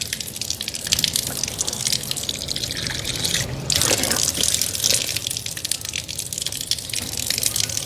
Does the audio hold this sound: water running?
yes